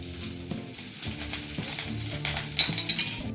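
Curry leaves and fresh ginger fry in hot oil in a pan while making curd poha, giving a steady close sizzle broken by light clinks and stirring scrapes, with no voices.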